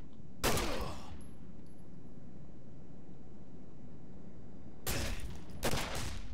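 Two loud bursts of rapid gunfire in the video game Condemned: Criminal Origins, one near the start and one near the end, with a steady background hiss between them.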